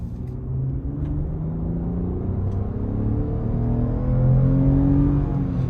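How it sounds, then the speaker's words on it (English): A 2018 Lexus RX 350 F Sport with its naturally aspirated 3.5-liter V6 and eight-speed gearbox pulls hard in Sport Plus mode. The engine's hum rises steadily in pitch, and the drone grows louder toward the end, heard from inside the cabin. "You can hear that naturally aspirated V6 rev its heart out."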